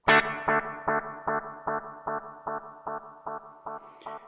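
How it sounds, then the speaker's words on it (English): An electric guitar chord repeats as a steady delay echo, about ten evenly spaced pulses that slowly fade, with a short swell of noise near the end. "now the delay is playing that captured reverb reflection"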